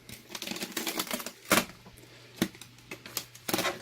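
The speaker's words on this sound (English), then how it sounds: "you're going to cut up the side." A knife slices up the side of the plastic bag around a soaked coconut-fibre bedding brick, giving close, scratchy cutting and crinkling bursts with brief pauses between strokes.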